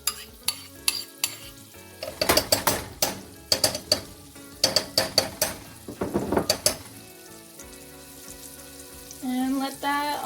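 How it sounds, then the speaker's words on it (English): Butter melts in a pot over medium heat for Oreo rice krispy squares, with a soft sizzle beneath sharp clinks and scrapes of a utensil against the pot, coming in irregular clusters. "we're just going to add in that butter and let it melt"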